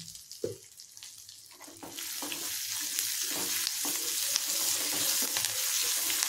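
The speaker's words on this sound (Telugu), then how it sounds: "పోపు వేగిపోయింది" Mustard-seed tempering for ginger chutney crackles and sizzles in hot oil, quiet at first and then swelling into a steady, close frying hiss, with a small clink near the start.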